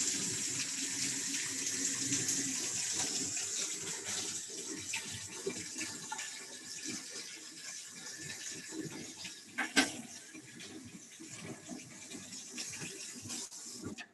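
Water running from a kitchen tap while waiting for it to turn hot, a steady close splashing stream into the sink with a brief clunk near the end and no talk.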